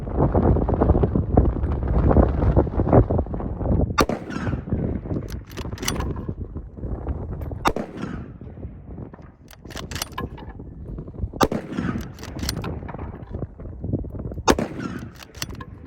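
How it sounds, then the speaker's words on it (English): Shots from a Barrett MRAD Mk 22 rifle outdoors, several sharp cracks spaced a few seconds apart, heard over wind noise on the microphone. "Let's get to some shooting."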